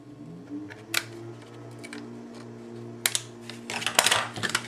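A birthday card panel is trimmed down on a paper cutter, with a few sharp close clicks and snips, a rustling cutting stroke near the end, and quiet background hum without talking.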